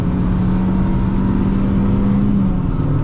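A 2008 Honda Fit engine pulls hard after a gear change, a loud steady mid-pitched drone with a rising tone that climbs gradually over a few seconds, heard from inside the car.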